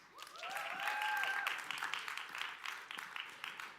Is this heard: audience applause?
yes